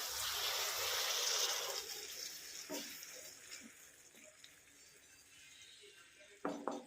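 Water pours into a pan over pieces of breadfruit with a rushing splash that fades into a quieter trickle, followed by a couple of light clinks.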